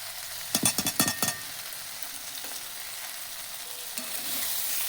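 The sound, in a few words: okra frying in a pan as poppy seed paste is added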